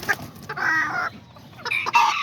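Small Azteca and Serama chickens with a rooster clucking close by in a backyard coop, several short bursts and a longer stretch of clucks, fairly loud with brief pauses between calls.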